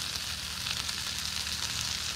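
Fish fillets fry in butter and oil in a pan, a steady close hiss and crackle of sizzling that holds evenly throughout with no talking.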